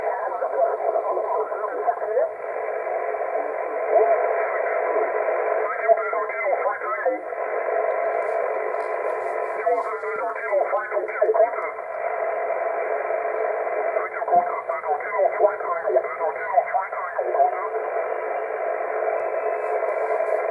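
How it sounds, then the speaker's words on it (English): Steady hiss and crackling interference from a Yaesu FT450D amateur transceiver tuned to the 20 meter band, a dense continuous band of static with faint shifting signals and garbled voice fragments buried in the noise throughout. "Quite noisy on the old interference background noise front."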